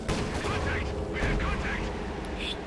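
Anti-tank gun fire and bursts of gunfire from the Company of Heroes 2 strategy game, a string of sharp booming shots in quick succession over a dense battle din.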